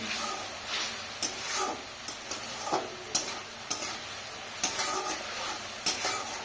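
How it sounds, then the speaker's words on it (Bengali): Spice paste frying in a little oil for a small rui fish curry, a steady close sizzle broken by regular scraping knocks of a spoon stirring through the pan. "মশলাটাকে ভালো করে কষিয়ে নেবো।"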